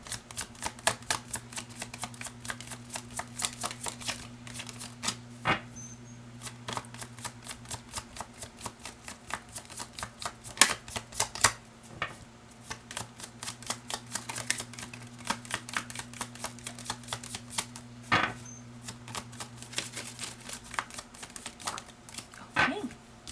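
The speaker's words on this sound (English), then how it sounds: "let's shuffle and let's get a card" Tarot cards shuffled by hand, a long run of rapid, quiet riffling clicks and flicks in uneven bursts against a low hum, with no talk.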